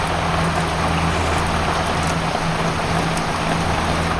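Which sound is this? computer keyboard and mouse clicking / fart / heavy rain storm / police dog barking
heavy rain storm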